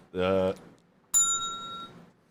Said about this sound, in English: I need my bell.